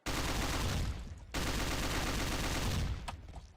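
Bulldog gun from Garry's Mod fires in loud, dense bursts of rapid gunfire that run almost continuously, with a brief break in the middle and a tapering tail at the end.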